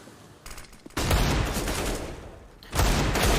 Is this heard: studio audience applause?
no